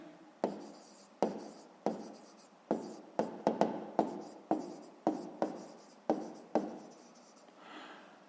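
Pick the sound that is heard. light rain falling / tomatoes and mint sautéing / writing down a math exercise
writing down a math exercise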